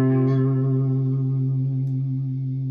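Clean electric guitar through a Hiwatt Hi-5 pure tube amplifier with an effect, a sustained chord ringing out with a shimmering, chorus-like modulation and slow decay, alone without talk.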